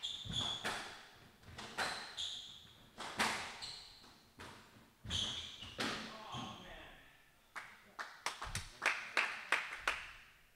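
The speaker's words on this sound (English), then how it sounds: "So a smattering of applause on that last play as Ned clipped the tin." Smattering of applause at a squash match, with scattered sharp claps and thuds of varying loudness, picking up into a quicker run of claps near the end, with a voice talking over it.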